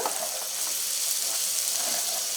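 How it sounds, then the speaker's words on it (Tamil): Chopped beans, carrots, potatoes and peas fry in a pan for vegetable biryani, giving a steady, close, loud sizzle and hiss with no talk over it. "இப்போ நம்ம அரிஞ்சு வச்சுருக்க காய் எல்லாமே நம்ம சேர்த்துக்குவோம்."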